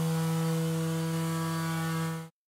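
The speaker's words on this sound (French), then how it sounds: "Équipez votre ponceuse vibrante d'un abrasif moyen qui correspond à un grain de 80" A vibrating sander fitted with medium 80-grit abrasive works wooden stairs, giving a steady loud motor hum and buzz that cuts off abruptly at the end, no talking.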